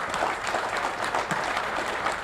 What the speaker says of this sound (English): One last round of applause for all of our service members.